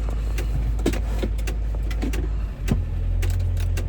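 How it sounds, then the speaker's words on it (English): A $4,000 used car's engine idles with a steady low rumble and a faint repeating ticking fault, heard close and alone. "listen to this horrible sound, this ticking."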